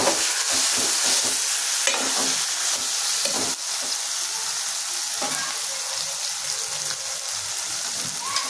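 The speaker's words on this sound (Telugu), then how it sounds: "ఇప్పుడు దీనిలో బెండకాయ ముక్కలు వేసేస్తున్నానండి." Cut okra pieces frying in oil, a loud continuous sizzle close up with occasional stirring clinks and crackles breaking through the steady hiss.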